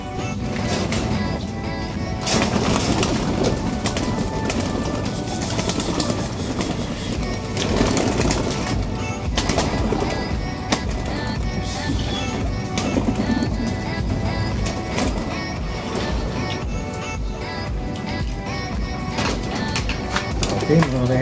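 Racing pigeons are released all at once from their loft, with a steady busy flutter and cooing under someone talking throughout.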